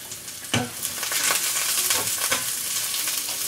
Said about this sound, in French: je fais revenir les champignons dans un peu d'huile d'olive.